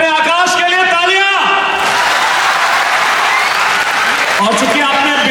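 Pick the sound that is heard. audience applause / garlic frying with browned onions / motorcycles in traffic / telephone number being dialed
audience applause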